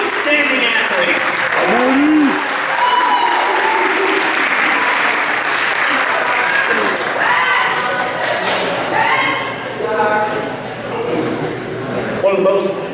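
A crowd at a sports awards night applauds athletes with sustained, dense clapping that swells and fades over several seconds, with cheers and voices mixed in.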